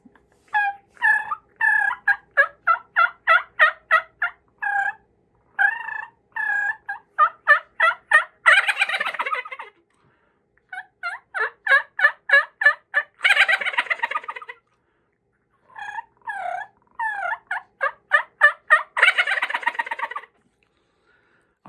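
Diaphragm turkey call imitating a turkey, producing loud, close runs of rapid yelps and gobble-like bursts, repeated in several sequences separated by brief silences.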